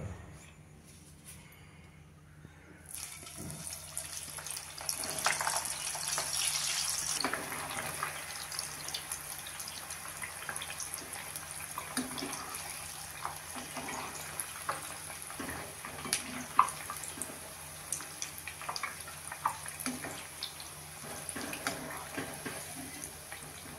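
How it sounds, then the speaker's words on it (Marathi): Potato bites dropped into hot oil in a kadai give a steady hiss of deep-frying that rises after a quiet start and settles into a continuous bubbling crackle with occasional pops, no talking. "आता आपण तेल तापलेलं आहे कढईमध्ये, तळून घेऊया"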